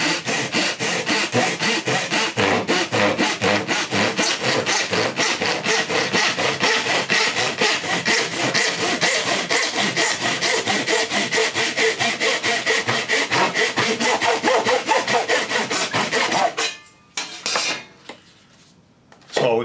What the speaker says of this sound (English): And it doesn't really matter which kind of saw you use, because any kind of saw will normally cut pipe like this.